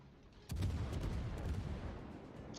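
A World of Warships salvo from the Alaska: a single heavy ship artillery boom lands sharply, then a long rumbling tail of naval gunfire rolls on, with no speech.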